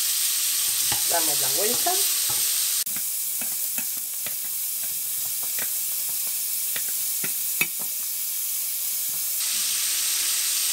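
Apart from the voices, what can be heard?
squid being sautéed sizzling in a frying pan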